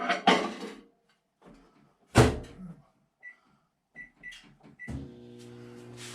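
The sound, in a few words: microwave oven being started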